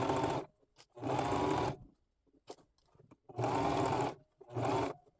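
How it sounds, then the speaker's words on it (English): A regular home sewing machine stitches a zigzag seam on a circle skirt in several loud, close bursts of whirring, separated by short pauses and faint handling clicks. "I'll still use a zigzag stitch on my regular sewing machine."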